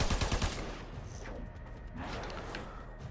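A short burst of shots from the Baza gun in Warframe opens loud, then gives way to lower game clatter and a few fainter shots without any voices.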